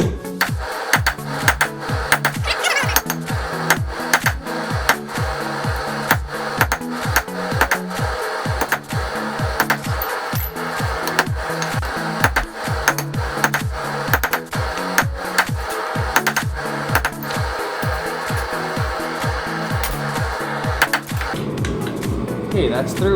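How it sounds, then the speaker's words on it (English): Rapid, even hammer blows drive a store-bought chisel through a hot railroad spike while forging slot-jaw tongs, a steady loud pounding rhythm that continues for over twenty seconds before stopping near the end. "I'm going to use my store-bought chisel."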